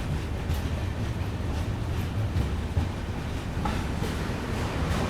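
Janmabhoomi Express, a push-pull locomotive train, pulls out of a station with a steady low rumble and rolling wagon noise, fairly near and continuous, with faint rattling on top and no talk.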